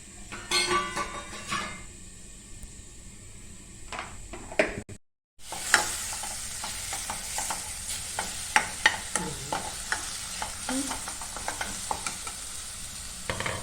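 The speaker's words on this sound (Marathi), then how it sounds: "याला दोन मिनटं झाकून याला परतून घेऊया" Grated coconut being sautéed and stirred in a pan for a black chicken masala, with steady sizzling, scraping spoon strokes and light clinks of metal, a brief silent gap early on, no voices.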